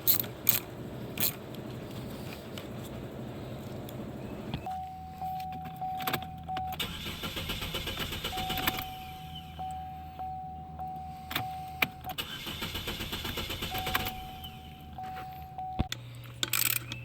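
A 2011–2015 Chevy Cruze 1.8L engine cranks with its coil packs disconnected, the starter whirring steadily in long bursts separated by short pauses, loud and close with some mechanical clicks and no one talking.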